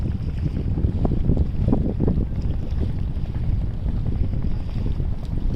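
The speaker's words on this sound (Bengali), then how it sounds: "বাতাস" Strong wind roars and buffets the microphone aboard a boat in the middle of a river, a constant rushing noise with low rumbling gusts and no speech.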